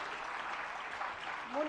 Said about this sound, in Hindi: लेकिन जोरदार तालियां सभी के लिए